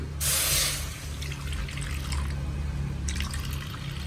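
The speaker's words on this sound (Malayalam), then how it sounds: "കുറച്ച് വെള്ളം ഒഴിച്ചു കൊടുക്കാം" Water pours into a pan in a steady splashing stream, loud at first, then a lighter trickle, with a low hum underneath and no talking.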